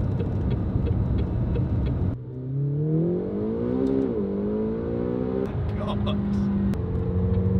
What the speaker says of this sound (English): if you put it in neutral and rev it, it makes an amazing noise